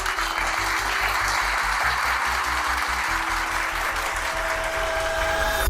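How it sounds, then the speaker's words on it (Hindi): A packed hall erupts in sustained applause for Swami Vivekananda's speech, loud and steady throughout, with a low rhythmic thumping underneath. "पूरा हॉल तालियों से गूंज उठा।"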